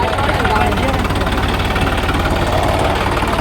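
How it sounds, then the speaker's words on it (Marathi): A John Deere tractor engine runs steadily close by, a loud, continuous low rumble with a rough, knocking idle, while indistinct voices blend in beneath it. "त्यांनी ना त्यांचा जॉन डिअर ट्रॅक्टर घेऊन आणलं बरं का."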